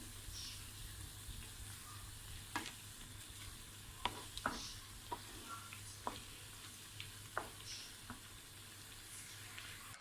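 Jali kabab frying in a pan of oil gives a steady, fairly quiet sizzle with a handful of sharp pops and crackles scattered through it, and no voices are heard.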